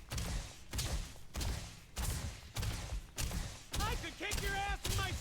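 Repeated gunshots striking an energy shield in Starfield, fired in a steady series of loud, sharp bursts about every half second, with a voice talking over the last few shots.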